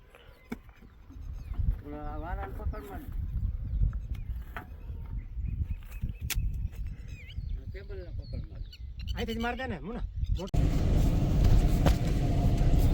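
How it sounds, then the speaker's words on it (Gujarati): A vehicle rolls down into a village pond bed, its engine rumbling and crunching beneath frequent nearby talking, with animal bleats in the background and a louder burst of engine and rough ground noise near the end. "ચાલો ભાઈ આપણે ગાડી ઉતારી રહ્યા છીએ તળાવમાં"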